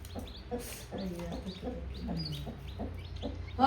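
Chickens clucking repeatedly in short, close calls at a village poultry yard in Kullapalem, a hen guarding her eggs nearby, with a low background hum and a brief louder burst at the end.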